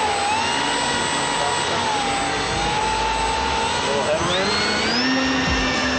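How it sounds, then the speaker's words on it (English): Small RC airplane motor at launch outdoors, a loud high-pitched electric whine that holds steady, then rises sharply in pitch near the end as the throttle opens, with voices faintly underneath. "So, now, you think I should hand launch this or just go for it? It's a great flying plane."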